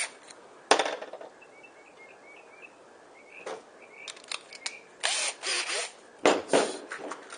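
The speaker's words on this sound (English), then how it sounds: "first we're going to go ahead and put screws alternating into the pole the whole way down" Power drill driving pan head screws into a wooden kayak stake-out pole, several short bursts of whirring, fairly close and moderately loud with quiet gaps between.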